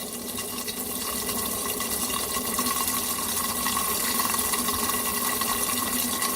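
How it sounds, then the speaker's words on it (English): Blender running on low speed, mixing mayonnaise ingredients as the emulsion starts, a constant dense whirring churn that holds steady and loud throughout with no talking. "turn it on low, and I'm just going to get everything blended together for a second and to start the emulsification process here"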